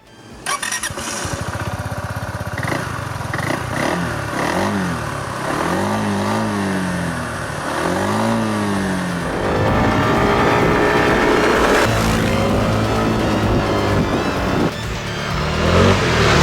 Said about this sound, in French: Le plus de ce Downtown 350, très clairement, c'est sa capacité d'accélération départ-arrêté